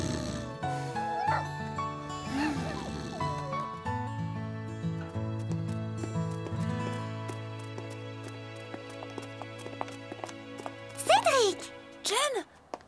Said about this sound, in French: Je ne savais pas que tu avais un chien.